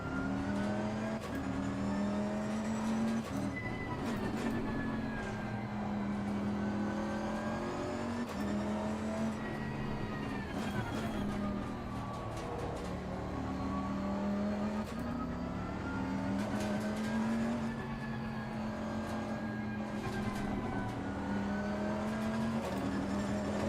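Bentley race car engine in Assetto Corsa Competizione at Snetterton, a steady loud drone with pitch climbing and dropping through gear changes, continuous and without talk.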